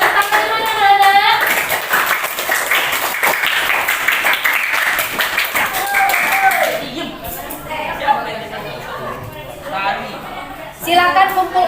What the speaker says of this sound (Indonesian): Tepuk tangan buat kita semua berarti kita sudah paham materinya.